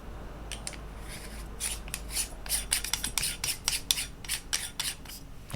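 An aluminum lens hood being screwed onto a 73mm f/1.5 Sonnetar lens, a close, quiet series of scraping, ratcheting clicks as metal threads turn against each other.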